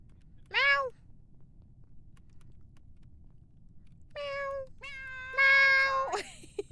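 A person mimics a cat's meow during a streamed Among Us game session: one short meow, then several longer, wavering meows in a row, loud and close, with a faint background hum.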